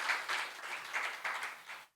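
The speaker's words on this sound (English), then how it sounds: "Yes, round of applause." Brief audience applause for a speaker at a founder-focused talk event, fairly faint, with rhythmic clapping for about two seconds before it cuts off.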